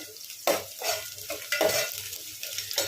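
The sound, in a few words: cut green chili pieces added to frying pan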